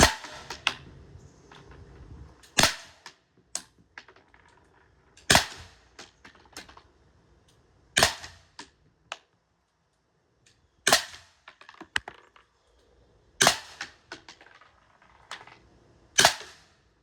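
Byrna launcher firing kinetic projectiles during a penetration test, a series of about eight sharp, loud pops spaced a couple of seconds apart, each followed by faint clicks and handling noise in otherwise quiet surroundings.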